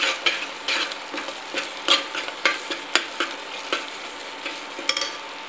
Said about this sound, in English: on high flame and just stir it continuously to avoid burning. You have to roast this masala very well